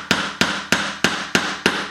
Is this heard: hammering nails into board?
yes